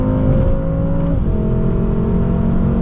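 BMW M6 driving in traffic, heard from inside, with a loud steady engine drone and a brief shift in pitch around the middle before it settles back into an even cruise.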